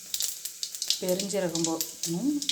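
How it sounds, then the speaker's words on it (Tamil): Mustard seeds spluttering in hot oil in a pan for moong dal sambar, with quick crackling pops throughout and a voice talking over the second half. "அதில் எண்ணெய் கடுகு போட்டு பொரியுது"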